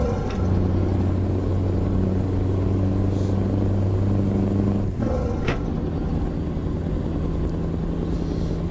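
A heavy truck engine labours low and steady while straining to pull away in Euro Truck Simulator 2, a constant loud rumble with droning tones that dip briefly midway before resuming.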